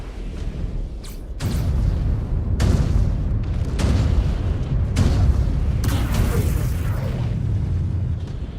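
A destroyed mech in Mechwarrior 5: Clans blows apart in a string of heavy booming blasts, loud and close, each burst rolling into a deep sustained rumble of battle noise.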